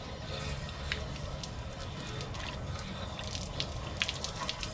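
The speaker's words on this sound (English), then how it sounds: "eventually what's going to happen is the water is going to come back blowing out of here" Water rushing back out of an RV plumbing line on a 2022 Keystone Montana during un-winterizing, a continuous splashing gush with small drips and spatters throughout.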